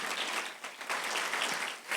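A church congregation applauds during a sermon, a fairly quiet but continuous wash of clapping with gentle swells and no clear voices.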